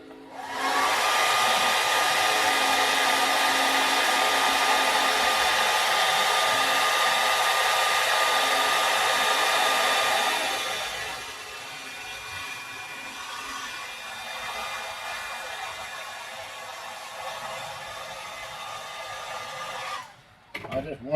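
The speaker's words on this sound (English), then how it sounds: "I just warm my epoxy up just a little bit with my blow dryer there" A blow dryer runs loud and steady for about ten seconds while warming epoxy, then drops to a lower, softer setting and continues until it cuts off near the end.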